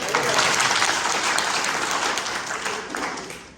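A seminar crowd in Gopalganj, Bihar breaks into continuous applause, a thick, even patter of many people clapping that stays loud for the whole stretch.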